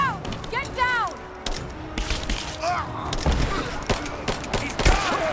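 Bursts of gunfire in Rise of the Tomb Raider crackle in a combat scene, with single shots and short rapid volleys repeating over several seconds under shouted voices and whistling, chirping effects.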